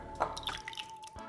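Canned fire-roasted crushed tomatoes pour out in a few thick, wet plops and squelches, close and fairly soft over a faint steady hum.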